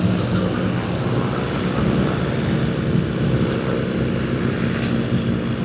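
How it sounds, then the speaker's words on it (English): A Vashon Ranger light propeller aircraft taxis at the Sun 'n Fun fly-in, its engine giving a steady, loud drone with a rough low rumble that stays constant throughout, with no voices. "the Vashon Ranger that's taxiing down there"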